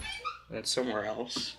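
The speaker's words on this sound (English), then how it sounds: "Oh, that's the dog." A pet dog whimpers and gives short high yips close by indoors, mixed with a person talking over it.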